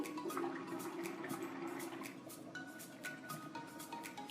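Water poured from a glass into a cooking pot for makko saag, a steady close splashing and trickling that runs for several seconds with no talk over it.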